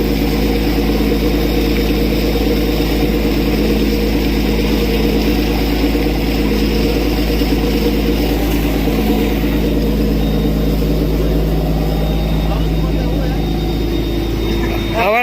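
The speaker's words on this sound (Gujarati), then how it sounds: "આ અમારા શેઠની બોટ છે જો." A fishing boat's engine runs at a steady idle, a loud constant low drone with a tonal hum that continues without change while someone talks over it.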